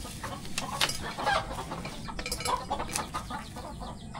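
Rhode Island Red and native chickens cluck and squabble at close range while being fed, a busy layered chatter of short clucks over outdoor background noise.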